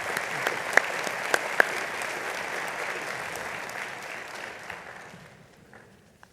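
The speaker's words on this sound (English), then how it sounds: "Let's give all of the platform party members a round of applause." An audience at a Morehouse College Founders Day convocation claps for the platform party, a dense wash of applause that holds steady and then fades out.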